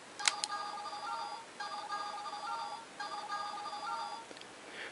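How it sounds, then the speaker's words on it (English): A Power Rangers Samurai Shodophone toy plays its electronic ringtone: bright, beeping chirps in three repeated bursts, close and fairly quiet, after a sharp click of the button press. "so you get that ringtone"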